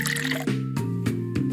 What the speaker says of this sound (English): Click to give the plant a little bit of water.